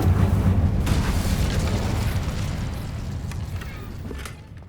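A fiery Incendio spell blast from Hogwarts Legacy erupts as a loud, sustained roaring burst that slowly fades over several seconds.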